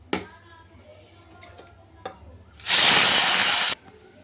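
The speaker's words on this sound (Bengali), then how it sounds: "তাহলে মাছটা আগে ভেজে নিই" Tengra fish hitting hot oil in a pan, bursting into a loud, dense sizzle that lasts about a second before cutting off, after a few light taps and clicks of kitchen utensils.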